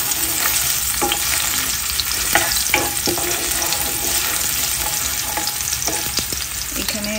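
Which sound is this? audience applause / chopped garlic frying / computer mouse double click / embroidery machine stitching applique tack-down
chopped garlic frying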